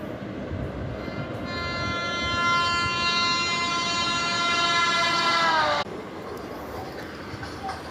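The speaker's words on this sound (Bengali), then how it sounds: "ট্রেন চলছে, ট্রেনে বসে সবাই গল্প করছে।" A train runs along steadily with a rumbling roar, and a long horn blast sounds over it for several seconds before cutting off.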